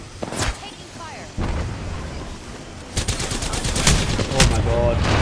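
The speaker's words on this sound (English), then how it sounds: "Taking fire." Gunfire in the Apex Legends video game: sharp shots and rapid bursts at moderate loudness, with a player talking over parts of it.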